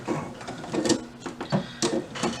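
A sewing machine stitches back and forth over the overlapped ends of an underwear leg band in short bursts of close, rattling stitching separated by brief pauses.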